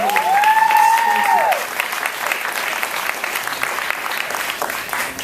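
Applause from an audience at an awards ceremony, a dense, steady wash of clapping that goes on throughout, close and loud, with a brief electronic tone sounding over it near the start.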